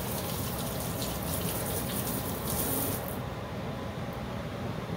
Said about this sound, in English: Just gonna do a quick rinse of my hands.